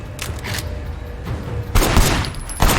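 Bursts of gunfire in the Sleeping Dogs video game, several quick volleys of shots with pauses between them, the loudest clustered near the end.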